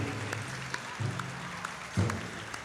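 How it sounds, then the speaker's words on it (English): Crowd at an outdoor pow wow arena applauds as the color guard exits, scattered clapping under low droning sounds and a couple of brief louder bumps. "Give them a round of applause as they leave the arena."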